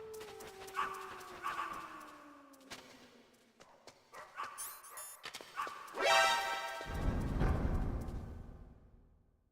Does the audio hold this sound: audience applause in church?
no